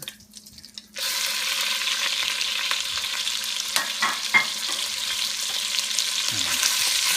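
A pound of grass-fed ground beef hits a hot pan and starts a loud, steady sizzle after a quiet second, with a few scrapes as the meat is broken up; nearby, no speech.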